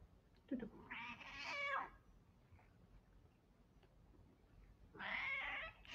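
A cat meows twice, close and fairly faint, with each drawn-out, wavering cry lasting about a second and separated by quiet room background.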